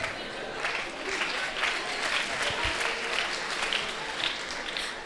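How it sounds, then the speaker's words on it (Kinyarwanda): Applause from an audience at a comedy show, a dense sustained clapping that runs steadily through, fairly loud and close, with a voice heard over it. "amashyi menshi kuri Clapton Kibonke"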